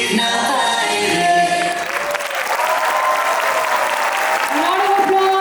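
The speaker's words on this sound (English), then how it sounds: "A round of applause for our munchkins." Loud, sustained audience applause at a school annual day, a dense wash of clapping with cheering and voices mixed in, continuing unbroken throughout.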